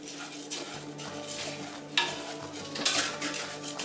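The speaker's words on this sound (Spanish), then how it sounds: "Agregamos el arrocito y empezamos a freírlo." Rice for Mexican red rice frying in a pan, with a soft steady sizzle and the scrape and clink of a utensil stirring it, close and without talk.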